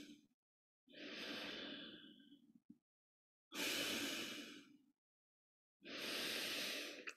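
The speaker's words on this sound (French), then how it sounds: "Prendre quelques profondes respirations." Slow, deep breaths during a guided body meditation, three long, close, airy breaths separated by quiet pauses, each rising and fading softly.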